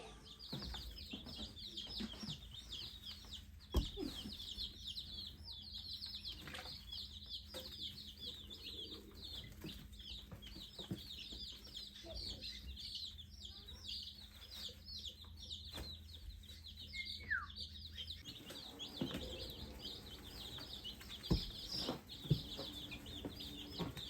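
Baby chicks in a brooder keep up a constant, dense chorus of high peeps at a low level, with occasional soft thumps and rustles and no voices.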